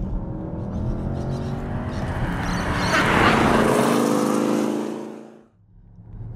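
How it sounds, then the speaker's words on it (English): Porsche Panamera GTS twin-turbo V8 engine revving up, a loud close rising roar that swells to a peak and then cuts off sharply, settling into a low idle rumble. "this twin-turbo V8 is very, very cool"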